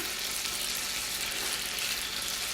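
Steak sizzling steadily in a hot pan while being basted with butter, a dense, even frying hiss held up close with no pauses.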